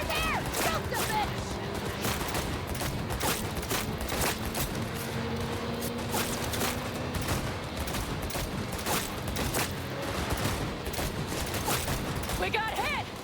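Gunfire crackles in rapid, dense bursts through a continuous loud din of shooting, with voices shouting now and then.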